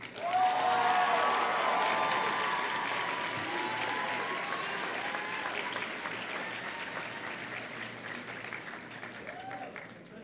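Audience applause at a 2018 secondary school graduation ceremony for bursary award winners: a loud, steady burst of clapping from a large crowd that fades gradually over ten seconds.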